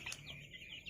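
Chickens, Indonesian native kampung layers and pelung-bangkok crosses, giving a short burst of clucking and chirpy calls, close and fairly quiet, with no talk.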